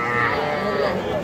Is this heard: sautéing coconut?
no